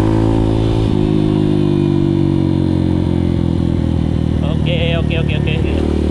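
Motorcycle fitted with Dunlop DGX 01 motocross tyres accelerating on an asphalt road, its engine droning with rising harmonics close by, a brief higher whine near the end.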